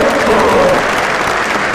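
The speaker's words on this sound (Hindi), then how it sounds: "जोरदार तालियां इस ग्रुप के लिए और शर्मा भाइयों के लिए" A crowd at a motivational training session applauds for a group and the Sharma brothers, a steady, loud wash of clapping filling the room for a brief moment.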